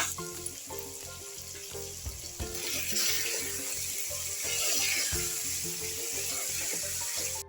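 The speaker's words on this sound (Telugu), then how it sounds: "దొండకాయ అంతా ఆయిల్ ఫ్రై అయింది కదా." Ivy gourd frying in oil with green chillies, a fairly quiet, continuous sizzle punctuated by rhythmic scraping and stirring strokes against the pan.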